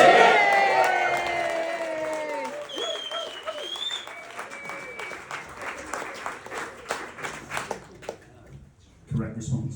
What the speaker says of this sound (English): This is the bit where you all go wild with applause for the camera.